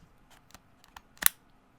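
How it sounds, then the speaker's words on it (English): A Nintendo Switch Joy-Con controller slides onto the console with a few soft plastic ticks, then one sharp, close latching click. "So here's just the regular click."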